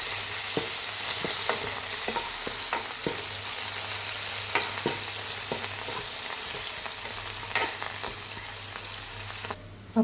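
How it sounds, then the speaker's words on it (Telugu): Tempered dal with asafoetida is stirred in a pan for a Kadapa-style brinjal and mango pappu, a constant sizzle punctuated by regular scraping and tapping strokes of the spoon, ending with a louder clank. "కొంచెం ఇంగువ, వేసేసుకొని కలగేసుకోవడం."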